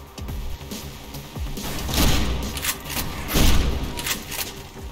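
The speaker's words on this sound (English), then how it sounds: "One giveaway for the gunshots not being real becomes apparent when taking a listen at the shotgun" Stylized shotgun blasts from the video game Mirror's Edge, heavy booming thumps with bright cracking tails, about three loud shots spaced roughly a second apart over low rumbling background.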